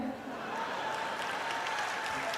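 Audience applause at a Hindi poetry recital, a dense continuous patter of many hands clapping at steady volume, with a murmur of voices underneath.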